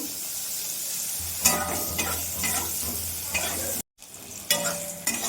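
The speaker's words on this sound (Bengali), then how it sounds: "তেল ছিল তাই আমি ওই তেলেতেই বেগুনটা ভেজে নেব।" Eggplant pieces fry in reused oil in a pan with a steady close sizzle, broken by spoon-stirring scrapes and a brief drop-out near the end before the crackle resumes.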